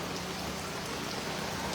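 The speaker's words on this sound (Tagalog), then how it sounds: "Umuulan eh." Steady rain falls during a typhoon outside a roadside eatery, a dense, even hiss of drops pattering on surfaces with no pauses and no voices.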